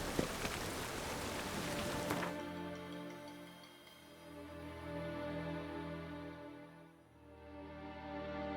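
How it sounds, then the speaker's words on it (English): Rain falls in the Witcher 3 video game, a dense hiss at first that thins after a couple of seconds into a softer patter, with low ambient tones swelling and fading beneath it. "Rain again."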